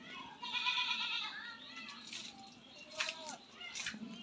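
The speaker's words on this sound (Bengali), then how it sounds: "এই ছাগলগুলো" Goats on a goat farm bleat in several wavering calls, the loudest near the start and shorter ones later, with faint background noise.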